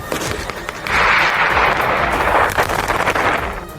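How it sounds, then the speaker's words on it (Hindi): Israeli army missile strikes seaside buildings on the Mediterranean coast, a loud sustained roar of explosion with rumbling debris and crackling that swells after the first second and lingers with bursts, no speech. "मिसाइल हमले के बाद हुए धमाके की आवाज इतनी तेज थी कि पूरा इलाका गूंज उठा।"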